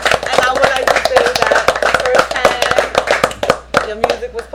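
An audience at a live show claps in dense, sustained applause, loud and close, with voices talking over the clapping throughout.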